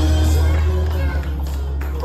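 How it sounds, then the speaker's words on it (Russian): Wedding banquet guests at a restaurant applaud in a steady, dense wash of clapping and crowd noise over a loud, low musical hum. "Аплодисменты, друзья."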